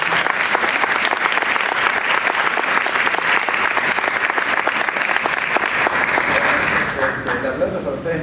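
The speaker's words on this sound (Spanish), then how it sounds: "Un fuerte aplauso para recibirlo." Dense, sustained applause from a conference audience welcoming a speaker onstage, loud and even throughout before thinning slightly near the end.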